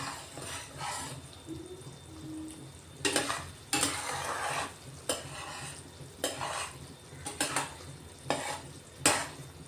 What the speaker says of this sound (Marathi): आता आपला पाक तयार होण्यात आलेला आहे, आणि सतत असं हलवत राहायचं